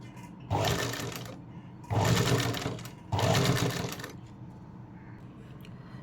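Sewing machine top stitching along a garment neckline in three loud close bursts of rapid whirring, each lasting about a second or more, separated by short pauses with quieter handling between.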